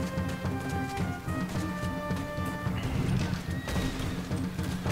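A horse in Red Dead Redemption 2 neighing loudly and whinnying in repeated shrill bursts over clip-clopping hooves and game noise, with a sharp crash midway.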